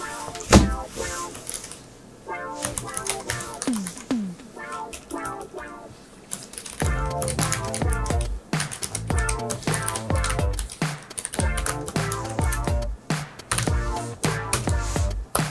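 Clicky bursts of typing on a Keychron K3 mechanical keyboard with red switches, arriving in quick uneven runs with short pauses, close and fairly loud.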